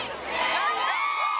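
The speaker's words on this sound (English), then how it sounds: "The crowd's pumped up, but right now the ceremony's about to begin." An enthusiastic crowd cheers and whoops outdoors at a Hollywood Walk of Fame star ceremony, a dense, loud wash of many voices held steady for a moment.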